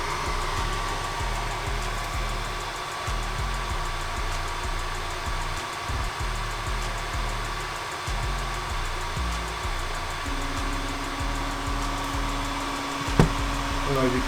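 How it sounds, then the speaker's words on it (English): Creality Ender 3 Max 3D printer purging filament through its nozzle, a steady mid-pitched motor and fan hum with pulsing stepper rhythm, a sustained tone joining near the end and a brief click. "now once I do that, it's going to go ahead and purge the nozzle"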